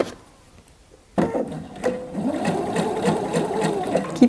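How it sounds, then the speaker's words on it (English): A sewing machine stitches a dress, starting abruptly after a quiet moment and then running steadily with a close, rhythmic mechanical whir and ticking. "And I'm just going to sew."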